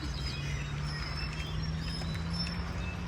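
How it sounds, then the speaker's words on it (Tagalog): Birds calling in a mangrove, with high chirps and thin whistles scattered over a steady low hum, moderately near and continuous, no voices. "dami kong naririnig ng mga ibon"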